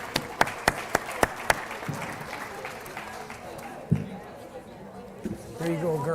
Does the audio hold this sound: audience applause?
yes